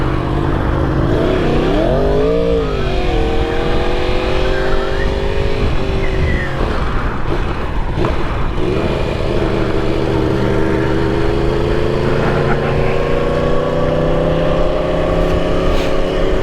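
A Yamaha R1 inline-four motorcycle accelerates through traffic, its engine pitch rising and falling through repeated gear changes, loud and close with wind rush.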